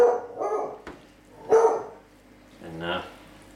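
A dog barks several times in a kitchen while pork shoulder and brisket are being prepared, loud sharp barks spaced out with a short whimpering yip at the end, close by and alone.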